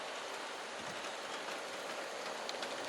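A G scale model train runs along layout track toward a tunnel and viaduct, giving a steady, dense rolling rumble and hiss that stays at an even level throughout, with no voices.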